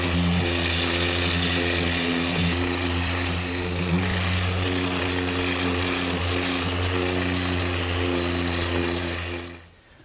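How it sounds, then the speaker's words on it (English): A random orbit sander runs over a wood panel in a woodworking shop, a loud, steady motor drone with buzzing harmonics held constant throughout before it winds down at the very end. "I'm just going to use my random orbit sander"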